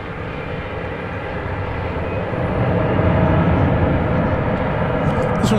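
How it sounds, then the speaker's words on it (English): Cessna Super Cargo Master turboprop arriving at DFW Airport at night, a loud, steady engine drone that swells slightly as it draws nearer, with no talk. "here comes another Cessna Super Cargo Master"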